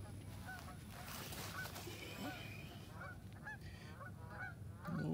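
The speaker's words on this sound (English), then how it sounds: "We were sitting here watching the geese, talking about how slow they were moving" Geese honk repeatedly nearby in an outdoor setting, a steady scatter of nasal calls over low background rumble, with no one speaking.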